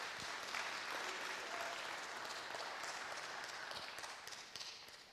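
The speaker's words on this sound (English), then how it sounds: "Give her a round of applause" A crowd gathered in a building gives a quiet, distant round of applause, steady dense clapping that carries on evenly for several seconds before tapering slightly.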